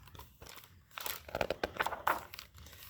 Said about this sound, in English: What are those things? Plastic bags.